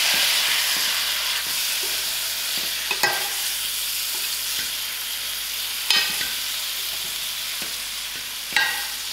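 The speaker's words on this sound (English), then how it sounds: "Again, now I'm going to add in my tomatoes." Tomatoes go into a pan of sizzling masala for green pawpaw curry: a steady broadband fry hiss, with a few sharp stirring scrapes and clatters near the start, middle and end, and no voices.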